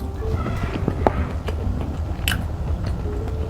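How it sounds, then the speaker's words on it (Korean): Someone bites into an Oreo Dalmi cookie, producing a few close, crisp crunches followed by soft chewing, quiet and without speech. "오레오 달미 쿠키 처음 먹어요."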